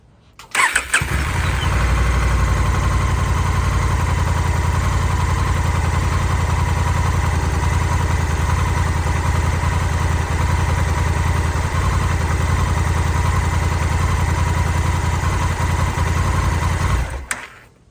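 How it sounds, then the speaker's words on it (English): A 2022 Honda Africa Twin Adventure Sport motorcycle fires up and settles into a loud, steady idle that runs evenly and close by for most of the stretch before cutting off. "Once again, I will start the bike."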